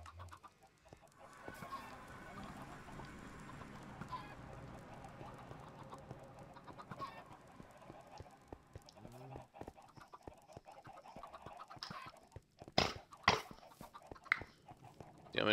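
Minecraft chickens cluck intermittently over a busy background of game sounds and music, with a few sharper clicks near the end.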